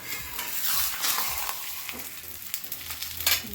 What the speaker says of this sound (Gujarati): હવે લોઢી ગરમ થઈ ગઈ છે તો આપણે તેને આ રીતે ધીમેથી એમાં મૂકી દઈશું